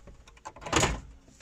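Doors on a Land Rover TD5 being worked to test the locks, giving a close, solid thunk of a door latch or lock mechanism that swells briefly to a single loud peak, with no talking.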